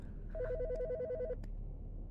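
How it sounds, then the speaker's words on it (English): An in-game telephone rings in the horror game Autopsy Simulator, a short burst of rapid electronic warbling tones lasting about a second over a low background hum, followed by a single click. "The fucking phone."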